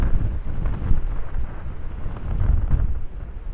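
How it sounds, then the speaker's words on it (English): Strong coastal wind buffets the microphone on stone steps climbing to a castle by the sea, a continuous low rumbling roar with gusty swells and no speech. "It's going to be even windier, isn't it?"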